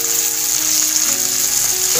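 Sliced onions sautéing in a pan for dried fish thokku, a steady close sizzle and crackle of frying oil that holds without a break, with no talk.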